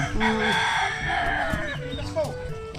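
A rooster crows loudly and close by on a farm, its long strained call stretching over a couple of seconds amid some background clucking.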